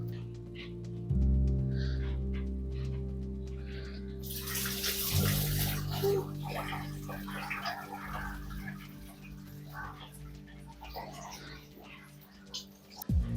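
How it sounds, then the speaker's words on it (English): Coolant runs out of a Honda Fit radiator after the 19mm drain bolt is removed, a steady splashing pour of liquid that rises sharply partway through and continues with some background clatter, no talking. "Now you saw a good amount of coolant drain out."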